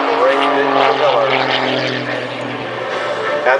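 An MX-2 aerobatic plane at an airshow, driven by a 385 hp Lycoming engine and a large propeller, drones steadily and loudly with a harmonic engine whine throughout while a voice talks over it.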